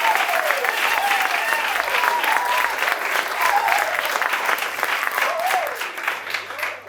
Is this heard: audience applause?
yes